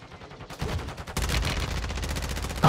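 Rapid bursts of gunfire in an online shooter video game, a quieter patch giving way to dense, loud continuous automatic fire that keeps hammering without pause.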